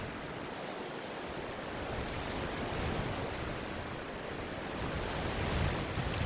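Steady roaring wind in Wisconsin with a broad rushing hiss, swelling slightly at moments, continuous and fairly loud with no voices.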